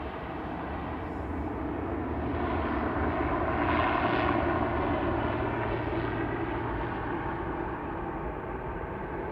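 Jet airliner taxiing at Manchester Airport, a steady broad engine roar heard from some distance that swells slightly around the middle and then eases, with no talk.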